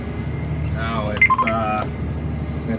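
A self-driving tractor planting corn gives a steady low engine drone inside the cab, with a few short electronic beeps midway and a voice briefly talking over the hum.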